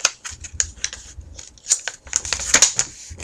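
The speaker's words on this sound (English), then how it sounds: "we're going to make a hamburger fold" Sheet of paper being creased and folded in half the short way, a close run of crisp rustles and sharp crackling swipes.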